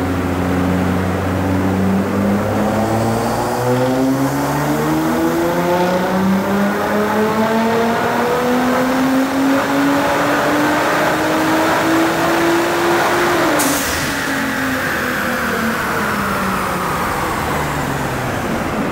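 A Nissan GT-R engine screams up through the gears on an all-wheel-drive dyno, its loud rising pitch climbing steadily, then abruptly cutting off and winding down as the rollers coast.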